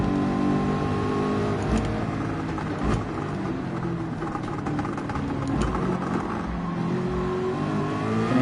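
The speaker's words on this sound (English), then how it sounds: "Hear that exhaust crackling away." Race car in Gran Turismo 7 on a banked curve, its engine roaring steadily with exhaust crackles and pops under the drone, loud and continuous throughout.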